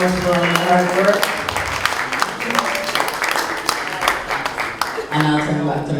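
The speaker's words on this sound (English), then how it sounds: "I'd like you all to give us a round of applause to my team." Forum attendees applaud the organising team at an International Reggae Day event, a crowd's clapping running throughout while a voice talks over it at the start and again near the end.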